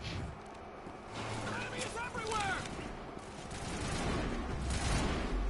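Turrets fire in the Mass Effect game as a faint, rapid rattle of bursts sitting low under background game noise, with a player's voice heard over parts of it.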